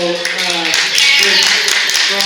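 Applause breaks out from an audience at a neighborhood community design workshop, a brief, full wash of clapping with a voice talking over it.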